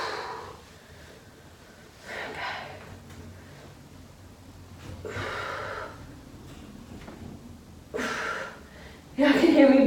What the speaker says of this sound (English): Y'all can hear me breathing on this one